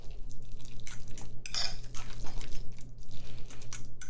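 Smoked salmon guacamole being mixed together in a bowl, with scattered clinks and scraping of a utensil against the dish, close and fairly quiet, over a steady low hum.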